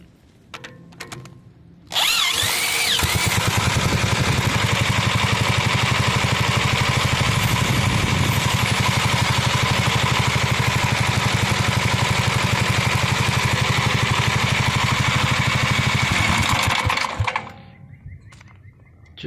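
A Gravely tractor engine is turned over by an electric drill, then runs steadily with a loud buzzing, chattering drone for about fifteen seconds before cutting off.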